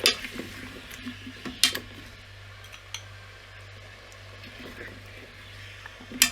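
A spoon stirs braised chicken and potato in a pot, producing scraping clinks against the metal and soft wet squishing, with several sharper knocks at the start and end over a low kitchen hum.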